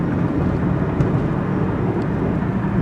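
An airplane flies past, a loud continuous broadband roar that stays steady for the whole stretch, with no voices.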